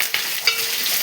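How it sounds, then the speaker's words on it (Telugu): Spices for dal tempering, cumin, garlic and green chillies, crackle and sizzle steadily in hot oil, a close, bright hiss with small pops. "ఇంకో ఫ్రెండ్స్ తాలింపు వేస్తున్నాను చూడండి."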